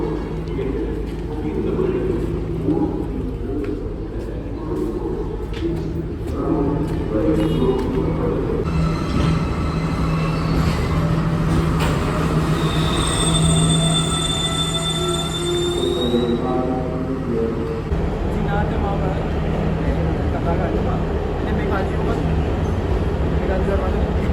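A train at Fort railway station rumbles steadily throughout, with loud metallic wheel squeals rising midway, while people talk nearby over the noise.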